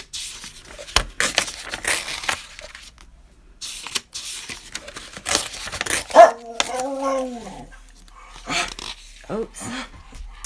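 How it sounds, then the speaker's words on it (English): A dog lets out a short run of barks and yelps, loud and close, in a quiet indoor room with some handling noise around it. "He doesn't bark very often"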